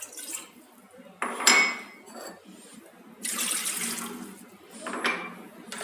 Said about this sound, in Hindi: उसमें 2 कप पानी डालेंगे।